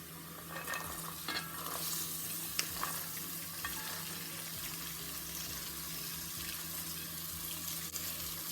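Diced onions, garlic, celery and carrots sizzle steadily in a pan for marinara sauce, a bright continuous frying hiss with occasional scrapes and clinks of stirring, close and unbroken, with no talk.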